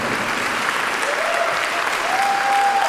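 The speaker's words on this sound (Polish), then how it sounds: "Wielkie brawa dla całego zespołu." Audience applause for the performers at a patriotic concert, a steady, full wash of many hands clapping at close range, continuing without pause.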